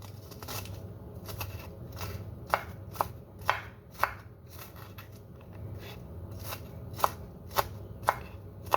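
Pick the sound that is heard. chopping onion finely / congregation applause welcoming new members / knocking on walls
chopping onion finely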